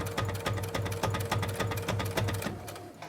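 A sewing machine stitches a fabric elephant ear at an eighth-inch seam in a sewing class, its needle chattering in a fast, steady rhythm, loud and close, with no talk over it.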